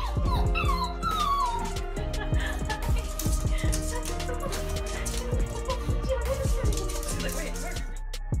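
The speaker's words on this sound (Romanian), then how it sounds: "Acest chihuahua o întâlnește pe stăpâna sa cu atâta emoție" A small chihuahua whimpers and yips in high, excited bursts, close by, over a steady background hum and some talking.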